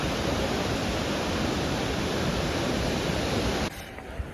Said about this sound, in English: Just look at the shore and the waves and the atmosphere.